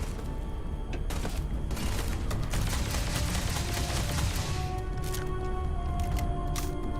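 Gunfire in the space game Starfield, a dense, continuous fusillade of shots and thumps running through the whole stretch, loud and close, with no talk over it.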